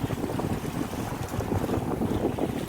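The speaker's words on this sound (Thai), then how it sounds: "บรรยากาศท้องทะเลนะครับ" Sea ambience heard from a boat off the Rayong coast: steady wind buffeting and the wash of waves form a constant, fairly quiet rush with no voices.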